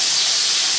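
Meatballs sizzling hard in a frying pan, a loud, dense, even hiss of hot fat filling the brief moment without pause or voices.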